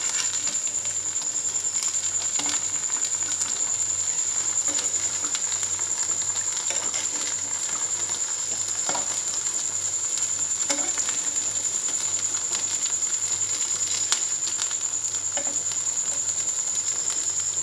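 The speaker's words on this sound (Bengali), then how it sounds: "ভাজা হচ্ছে, একসাথে সবগুলো ছেড়ে দেওয়া হয়েছে" Homemade chhana (cottage cheese) balls crowded together in a pan of hot oil sizzle and fry with a constant, close hiss, broken by occasional faint pops and stirring clinks.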